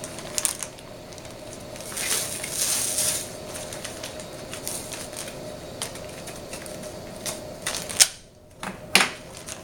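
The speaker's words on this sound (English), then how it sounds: "And tape it good. Any tape will do, really, as long as it sticks." Adhesive tape is pulled from the roll and pressed down while a simulation uterus model is put together, giving a few quiet, scratchy tearing and sticking bursts in a calm room.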